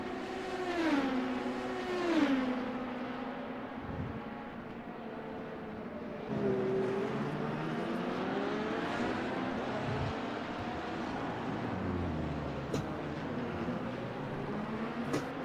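Endurance sim race cars lapping Circuit of the Americas, engines revving and shifting through gears as they pass, a steady loud drone with rising and falling pitch sweeps, the Ferraris among the LMP2 field.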